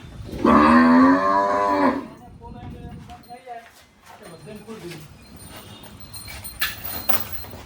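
A loud, deep Kankrej cow moo lasting over a second, followed by quieter shuffling, hoof clops and people talking nearby on a farm.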